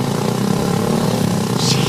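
A motorcycle taxi engine drones loudly and close up, a continuous steady rumble with no pauses.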